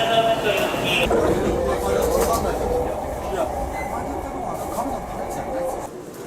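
Steady rumbling of a train in motion, fairly loud and continuous, with rattling and squeaks, and a voice speaking faintly over it.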